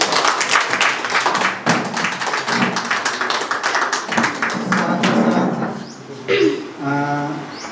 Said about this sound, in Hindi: धन्यवाद के रूप में जोरदार ताली बजा देंगे